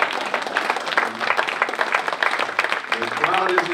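Audience applause and clapping at a convention plenary, a dense steady wash of hands through the whole stretch, with voices mixed in the crowd noise.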